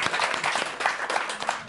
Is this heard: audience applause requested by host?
yes